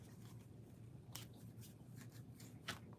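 Quiet riffling and soft flicks of a deck of Four Agreements cards being shuffled by hand, with a couple of sharper card snaps near the end over a low room hum.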